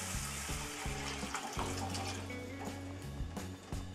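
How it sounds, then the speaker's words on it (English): Boiled vegetable stock pours into a pan of Manchow soup with a steady close liquid splash and gurgle, over a faint low hum in the kitchen. "Now I'll add vegetable stock in which we have boiled our vegetables."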